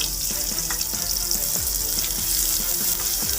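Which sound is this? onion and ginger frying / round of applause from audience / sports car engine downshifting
onion and ginger frying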